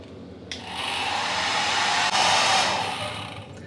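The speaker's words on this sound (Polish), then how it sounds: "Ja wysuszę włosy, oczywiście nie brałam suszarki swojej. Mam tą, więc odpalę sobie na dwójkę." Hair dryer set to its second setting switching on with a click and building into a steady, loud, close airy whoosh that holds throughout, with no talking.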